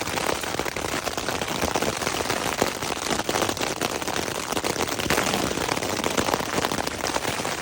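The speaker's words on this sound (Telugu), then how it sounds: "వాన పడుతుంది మంచిగా గట్టిగా," Heavy rain driven by strong wind pounds a camping tent at night in Mongolia, a dense, steady roar of drumming drops with no letup.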